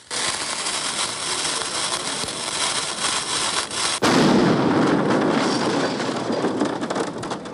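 A sharp loud blast from an explosion attack on a bank cash terminal cuts in midway, followed by a sustained roaring crackle that stays loud until the end.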